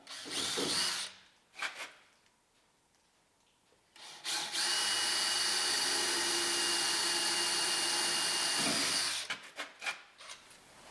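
A power drill whirs in short bursts while drilling holes, then runs steadily for several seconds, then spins down in a few quick pulses. Loud and close.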